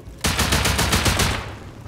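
Gunfire in the survival video game Rust, a loud, close burst of rapid automatic shots at an even rhythm that lasts about a second and a half and then trails off.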